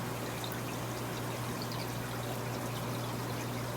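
Water pours and flows steadily into pleco fish tanks in a fish room, a dense, constant rushing splash with a low hum beneath, close and unbroken throughout, without speech.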